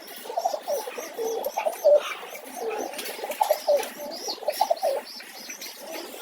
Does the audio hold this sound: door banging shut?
no